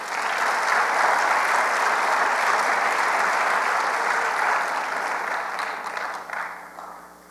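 A chapel audience gives honorees a sustained round of applause, dense clapping from many hands that holds steady for several seconds before tapering off near the end.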